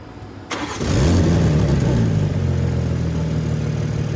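A 2023 BMW M3 engine cranks briefly and catches, then settles into a steady, loud idle that runs on without pause.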